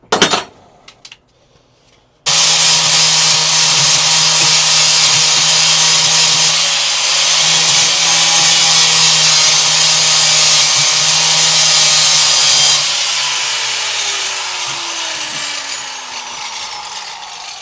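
Angle grinder fitted with a flap disc grinding down spot welds on metal, a loud steady high whine running for about ten seconds after a short pause, then spinning down and fading.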